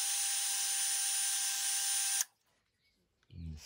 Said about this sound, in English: I'm going to drill right through.